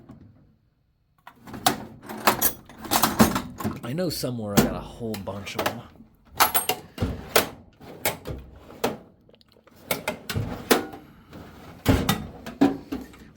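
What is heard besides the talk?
drawers being opened and closed while searching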